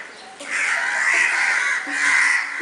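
A crow caws in two drawn-out harsh calls, loud and near, separated by a brief pause, with no voices.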